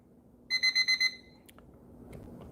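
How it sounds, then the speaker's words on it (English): An electronic alarm goes off with five quick, evenly spaced beeps in one short burst, then stops and leaves only a faint background hum. "Alarm is working."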